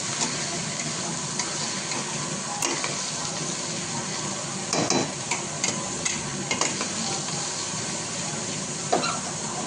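Vegetable biryani being stir-fried in a pan: a loud, continuous sizzle and hiss with repeated scrapes and knocks of the spoon against the metal, growing busier in the second half.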